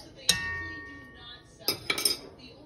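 A utensil stirs wine into a pot of homemade meat sauce, knocking against the pot with a loud clink, a pause, then a quick cluster of three metallic taps close by.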